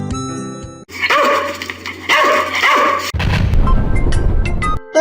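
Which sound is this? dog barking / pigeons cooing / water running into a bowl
dog barking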